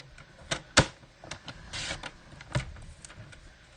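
Paper trimmer slicing cardstock pieces for card panels, close-up: a few sharp clicks and a short scraping glide of the blade amid soft paper handling.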